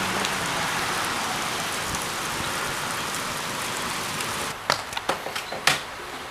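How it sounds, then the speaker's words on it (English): Constant heavy rain during a stormy spell, a broad continuous hiss, with a few sharper nearby drips or splashes near the end and no voice. "This is constant storms."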